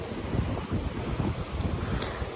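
A sea breeze blows on the coast at Fengbin, Hualien, Taiwan, a soft, steady low rush of wind with no voices.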